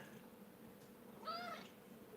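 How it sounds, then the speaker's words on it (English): An indoor cat gives a single short meow partway through, faint and rising, over a quiet background hum. "my cat's up here"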